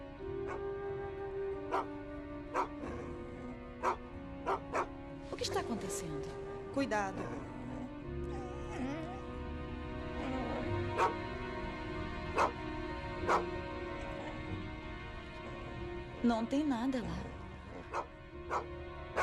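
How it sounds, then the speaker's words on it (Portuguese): Dog barking in short yips and bow-wows, then whimpering and yelping, scattered over nearly twenty seconds while people talk anxiously nearby at close range. "O cachorro começou a latir e parecia estar doido"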